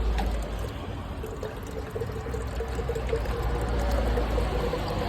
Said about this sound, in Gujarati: કેટલું બધું સ્પીડમાં પાણી આવે ઉપરથી